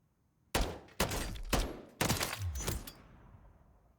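Four sharp Holger 556 rifle shots ring out in a video game, spaced roughly half a second apart, each loud crack followed by a short decaying tail, with faint ringing from steel plate hits.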